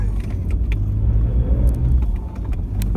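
A 4x4 on a steep beach track at Esperance, Western Australia, with steady loud low engine rumble and tyre roar held throughout, a few faint higher clicks on top, no talk.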